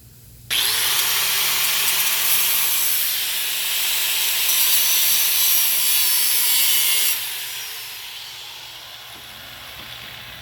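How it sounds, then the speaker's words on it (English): A grinder with a thin blade cutting into an old steel ripper point, starting abruptly into a loud, continuous harsh hiss-whine for several seconds, then easing off into a softer rubbing grind near the end. "Now we're going to take a grinder with a thin blade and make 2 cuts."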